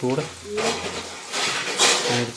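Onion sautéing in a pan for home-style Konkan kalwa, a bright sizzle broken by scraping stirs and clinks of a utensil against the pan, with brief humming tones at the start and end.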